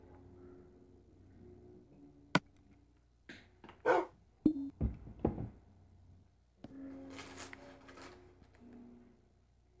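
A dog in the video game Minecraft gives a few scattered short barks and whimpers, loud and close, separated by quiet gaps.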